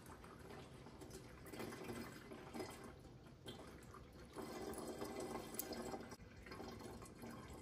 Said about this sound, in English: Because all the fluid is going to drain out, I will give this a few minutes and let it completely drain.